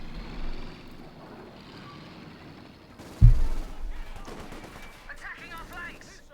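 Battle sounds from Company of Heroes 2, with British forces facing German armor and a Vickers machine gun among the units, heard as distant bursts of fire and a heavy boom at mid-point under steady commentary.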